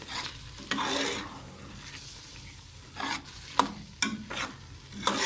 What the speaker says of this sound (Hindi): साथ साथ चमचा हिलाते जाना है ताकि पेठा कद्दू और चने जले ना, आपने चमचा हिलाते जाना है।